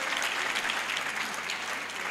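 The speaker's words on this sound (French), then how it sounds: "Applaudissons." Dense, continuous applause from a church congregation, a broad wash of many hands clapping at even loudness for a couple of seconds.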